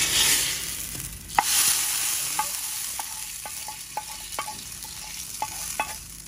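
Onions fry for a dal tempering in a hot pan, giving a steady sizzle while a utensil scrapes and taps against the pan in irregular strokes, close up with no voices.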